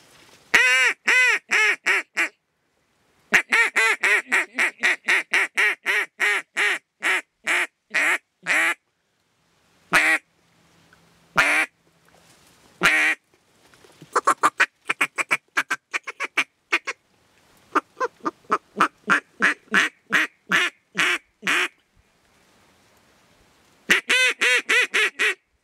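A DKC duck call blown for hunting imitates duck quacks in loud, close bursts of rapid rhythmic quacking separated by short pauses, with no speech.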